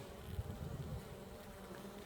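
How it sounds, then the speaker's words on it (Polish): Honeybees buzzing around a hive entrance in a forest in early spring, a soft steady low hum of wings with a slightly louder swell early on, fairly faint and without talk. "Nalatują się na, na wylotek i lecą pewnie z pyłkiem."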